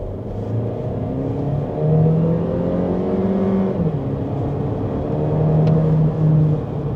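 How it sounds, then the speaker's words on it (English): A BAIC X55 SUV's 1.5-litre four-cylinder engine pulls through a gentle acceleration, its droning note rising and steadying from inside the cabin over a low road rumble. "Let's do a small acceleration."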